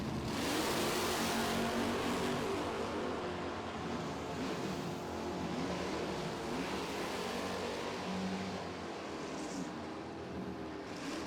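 A 1967 Buick and a 1966 Coronet muscle car make a drag racing pass at a muscle car nationals meet, a steady, loud engine roar that fades slightly toward the end, heard from a distance.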